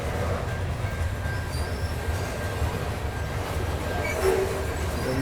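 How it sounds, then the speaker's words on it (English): A freight train rolls past nearby with a steady low rumble of wagons and wheels, faint metallic squeals and tones over the top, continuous throughout. "I couldn't hear you for the train."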